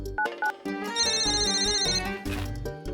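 On an outgoing phone call, a ringback or ringtone melody plays in short electronic tones and then a longer musical phrase, faint and alone without talk.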